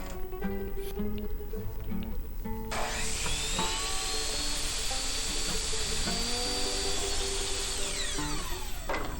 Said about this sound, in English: I cut the other end the same way.